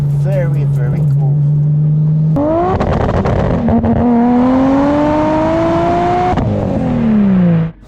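Tuned turbocharged Toyota Supra Mk4 with a 2JZ engine accelerating hard from inside: a loud, rising engine note that climbs through gear changes, dropping and surging again, then cutting off at the end.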